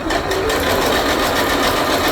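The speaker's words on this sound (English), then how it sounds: "Make sure you are sewing on the side that you have glued." A sewing machine stitches a glue-basted pixel quilt, its loud, steady mechanical whir running continuously and close by with no pauses.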